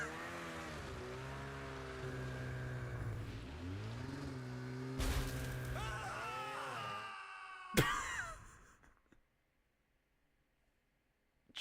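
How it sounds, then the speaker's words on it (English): Vehicle engine droning in Call of Duty: Modern Warfare 2, a steady layered rumble with shifting pitch that rises and dips over several seconds, broken by sharp impacts near the end before cutting to near silence. "now I'm getting some engine noises"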